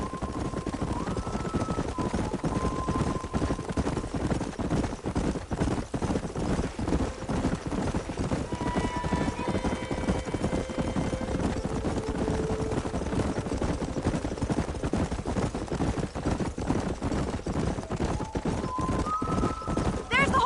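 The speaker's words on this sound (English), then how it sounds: "There's the horses!" Horses trot in the Red Dead Redemption video game, set in New Austin: a steady, continuous clip-clop of hooves runs the whole time, with occasional drawn-out tonal sounds rising over the hoofbeats.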